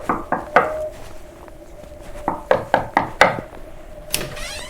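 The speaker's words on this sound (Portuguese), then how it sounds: "Sem o que comer e com muito frio, a cigarra foi bater à porta da formiga." Sharp knocks on a wooden door, loud and close, a cluster of three raps followed after a pause by a faster run of five or six, then a brief higher clatter at the end.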